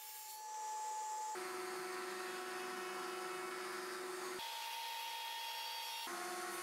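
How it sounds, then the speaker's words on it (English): A cast iron table saw cuts a piece of HPL laminate for the front of a fence, giving a loud, steady whining drone whose pitch shifts abruptly a few times as the cut goes on, with no talking. "Now I'm going to cut a piece of HPL to install on the front of the fence."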